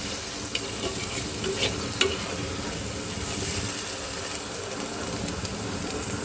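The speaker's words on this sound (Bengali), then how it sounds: "তখন আমি এর মধ্যে দিয়ে দেবো কেটে রাখা ছোট ছোট আলু" Small cut potatoes frying for white pulao with peas, a steady close sizzle and crackle running throughout, with a few brief clinks of stirring near the start.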